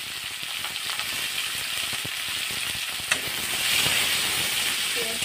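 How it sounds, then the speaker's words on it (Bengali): Sliced onions frying in hot oil in a pan while cooking dum aloo, a continuous loud crackling sizzle with hissing steam and occasional stirring scrapes, no talking. "এখানে আমি পেঁয়াজ কেটে দিচ্ছি, পেঁয়াজ দিয়ে দেব।"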